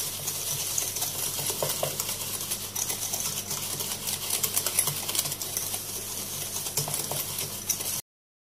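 Sugar and a liquid custard base for a strawberry-jelly trifle being stirred by hand in a bowl, giving a steady scraping and swishing that continues without pause for the whole stretch, with no talking.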